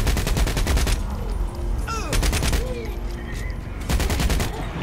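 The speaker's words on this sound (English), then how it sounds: "Who is still shooting it?" Rapid automatic gunfire rattles in loud bursts during a Saints Row video game match, with a pause in the middle filled by sirens and game effects before the bursts resume.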